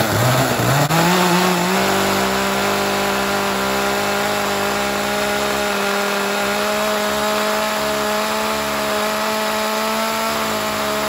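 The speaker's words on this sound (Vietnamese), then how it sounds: "Cây tươi ấy, cưa phát một luôn các bác nhá, cưa cực kỳ sướng" A gasoline chainsaw starts and then runs steadily at high revs cutting fresh wood, a loud continuous buzzing drone close by with no voices.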